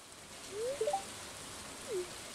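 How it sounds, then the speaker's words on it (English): Steady rain hisses evenly throughout a Stardew Valley game scene, with a few brief soft tonal chirps rising above the constant wash of falling water. "I would suggest you not try to play football or any other sport in the rain."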